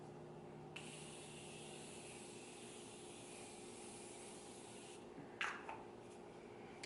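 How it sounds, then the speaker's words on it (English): A Morphe Continuous Setting Mist gives a faint, brief spray hiss, with a quick sharper burst near the end over a steady low background hum. "This is the Morphe Continuous Setting Mist."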